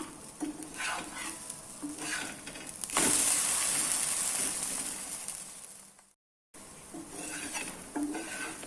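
Tapioca adai frying on a pan over a medium flame, a continuous hiss that swells into a louder, sharper sizzle midway, with a few spatula scrapes, heard close with no voices.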